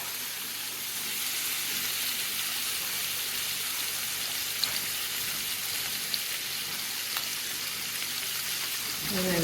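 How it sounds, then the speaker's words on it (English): Chopped garlic cooking in butter and olive oil for fettuccine chicken Alfredo, a steady soft hiss of frying that holds evenly throughout, with a few faint clicks near the end, fairly quiet and close. "I'm also going to add a teeny bit of chopped garlic for that flavor profile."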